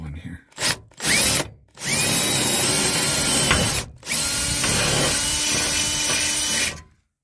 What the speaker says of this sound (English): I drilled one hole there. Gonna drill another hole.